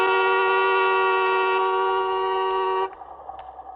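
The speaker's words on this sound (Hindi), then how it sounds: "हॉर्न बजाओ ना।" A car horn held in one long, loud, steady blast for nearly three seconds, then cut off, leaving faint background noise and a couple of small clicks.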